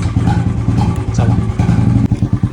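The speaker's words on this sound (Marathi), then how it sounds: "गेली बाई मोटरसायकलवर." A motorcycle engine throbs nearby in a village and pulls away, a loud uneven rumble with revving pulses and some clatter that shifts over a couple of seconds without any speech.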